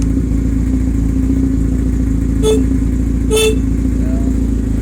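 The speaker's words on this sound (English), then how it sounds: "Horn works." Two short honks from the horn of a 1985 Honda Nighthawk CB700SC motorcycle, sounding over its steady idling engine hum, the second blast slightly longer.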